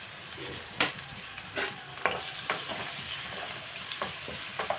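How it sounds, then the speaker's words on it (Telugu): Onion and green chilli pieces fry in a pan for a mutton bones curry. A steady soft sizzle runs throughout, with occasional sharp clacks of a utensil stirring them, and no talk. "కొన్ని ఉల్లిపాయ ముక్కలు కొన్ని పచ్చిమిరప ముక్కలు వేసేయండి"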